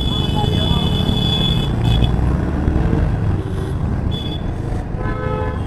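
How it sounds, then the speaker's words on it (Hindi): Busy traffic in Karol Bagh with several car horns honking, including repeated short toots and longer blasts, some near and some farther off, over a constant road rumble. "और तेज हॉर्न, और तेज"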